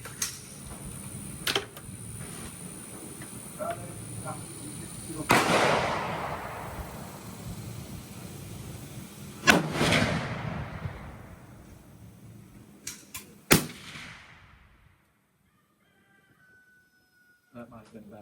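Rifle shots from a Savage Axis Pro .25-06 at a shooting range, a few sharp cracks spaced seconds apart with decaying echoes, under low conversation between shooters.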